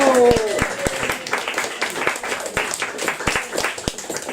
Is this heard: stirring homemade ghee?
no